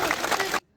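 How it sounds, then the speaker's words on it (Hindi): Brief burst of applause from a workers' union meeting crowd in Jammu, clapping for an MLA that cuts off abruptly into silence. "तालियां बजाओ उनके लिए"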